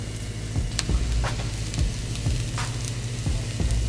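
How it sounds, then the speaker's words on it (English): Steady sizzling hiss of food frying in a hot pan, with occasional crackles and pops throughout, close and fairly loud. "we're gonna let it sizzle"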